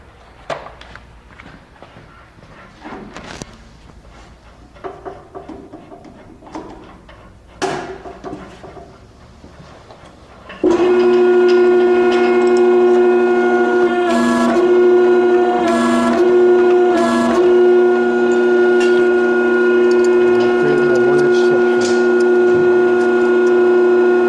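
Portable 1674 tube expander machine starting up after some shuffling and handling noises, then running loudly and steadily with a strong tonal motor whine and faint clicks, close by, with no talk.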